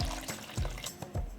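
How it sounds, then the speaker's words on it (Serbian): Warm water poured into a cooking pot that holds glass jars on a cloth, a short close gush with rhythmic sloshing surges. "sipam toplu vodu"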